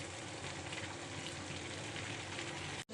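Bottle gourd peel frying in mustard oil gives a steady, dense sizzle that runs unbroken at close range, then cuts off abruptly near the end. No one speaks.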